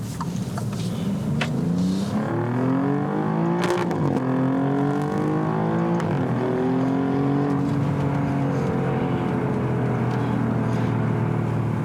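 An Alfa Romeo Giulia Quadrifoglio engine revs up and climbs in pitch through several gear changes, each shift briefly dropping the tone before it rises again, loud and steady throughout.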